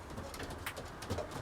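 A tame pet bird, pigeon- or dove-like, coos softly as it comes closer, a faint low murmuring call heard against a quiet background hiss.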